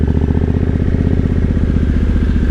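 A 2011 Triumph Thunderbird 1700 parallel-twin motorcycle rides in second gear through a dark parking lot, its engine throbbing loud and close in an even, rapid pulse.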